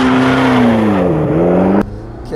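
A 2020 Chevrolet C8 Corvette Z51 or a 2018 McLaren 650S launching off the line on a wet autocross course, its engine droning loud and close with a wavering pitch that dips, then cuts off sharply near the end.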